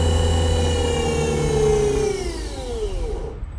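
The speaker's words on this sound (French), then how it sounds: "Donc on voit le moteur démarrer." A motor in a diagnostics and simulation setup spins up with a steady whine that glides and shifts in pitch, loud and close, then cuts off abruptly at the end.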